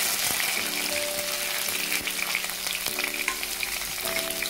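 Sliced onions, about ten to twelve cut lengthwise, frying in hot coconut oil, giving a steady, dense sizzle close up with a few light stirring scrapes and clicks, no voices.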